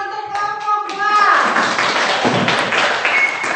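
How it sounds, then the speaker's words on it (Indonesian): A classroom of students breaks into applause for a presenting group, starting over a trailing voice and then filling the room with steady, close clapping throughout. "tepuk tangan untuk kelompok 2"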